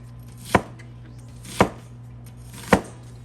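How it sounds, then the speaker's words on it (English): An onion being cut into large chunks with a knife on a cutting board: three distinct, evenly spaced chops land crisply and close against a quiet, steady background hum. "I'm gonna chop up the onion in large chunks"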